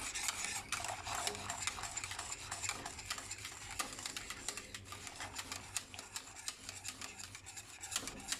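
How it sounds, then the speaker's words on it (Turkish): Continuous scraping and swishing of a spoon stirring a thickening apple mixture in a pot on the stove, steady and rhythmic with small clinks, no talking. "On dakikadır falan arkadaşlar bu şekilde karıştırmaya devam ediyorum."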